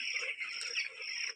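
Chickens cluck softly inside a poultry shed, a faint, continuous chatter of the flock over a steady high-pitched whine, with no talk.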